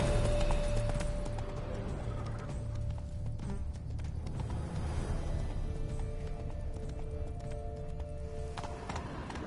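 Galloping horses in The Witcher 3: Blood and Wine give a continuous rumbling clip-clop of hooves under a steady in-game ambient bed, moderately loud and without a break.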